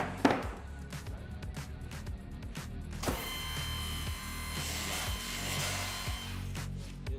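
A multi-spindle drilling machine bores holes in hanging wall cabinet parts, a close mechanical whir with repeated short drilling bursts and clunks, rising into a louder sustained whine midway.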